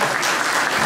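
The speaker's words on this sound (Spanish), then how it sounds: "Fuerte los aplausos, por favor." Audience applauding at a solemn awards ceremony honouring schools that won a civic parade, a loud, dense wash of clapping filling the whole moment without a break.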